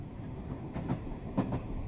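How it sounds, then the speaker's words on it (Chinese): A light rail train speeding along with a low steady rumble, with a few soft clicks of wheels on the track. The sound is fairly faint and no one speaks. "轻轨列车在急速行驶着"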